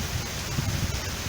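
Heavy rain pouring down beside the River Thames in London, a dense, steady wash of noise close by with no voices.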